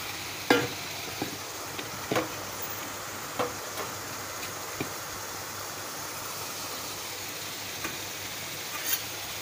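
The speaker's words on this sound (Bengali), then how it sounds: "এই তোমার এই মাশরুম ভাজাটা দিয়ে দিলাম" Fried mushrooms are stirred in a hot pan, a soft steady sizzle broken by occasional sharp scrapes and clicks of a spoon against the pan.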